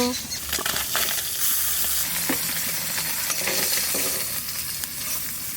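Pieces of bitter gourd with turmeric and salt fry in oil left over from frying fish, a loud, close, continuous sizzle with bubbling crackles and occasional stirring scrapes.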